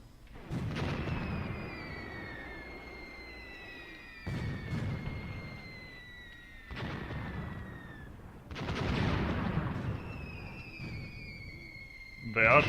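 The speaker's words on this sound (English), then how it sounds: "they are shooting with guns from over there, you can see the flashes. Oh no, wait, that's actually my own pre-planned barrage" An artillery barrage in the Graviteam Tactics wartime video game sends four heavy booms, each followed by a long rumbling decay. The blasts come every few seconds at moderate loudness, with faint whistling tones between them.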